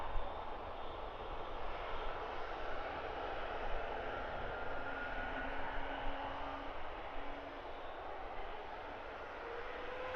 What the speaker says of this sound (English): This is Wizz Air flight 5389, A321neo, destination is Poznan.